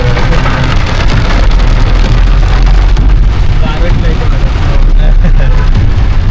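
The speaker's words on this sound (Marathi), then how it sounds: "पाऊस जाम आहे. भर पावसात प्रवास करतो." Loud, steady rain pours down in a constant heavy hiss, with rumbling wind noise underneath throughout.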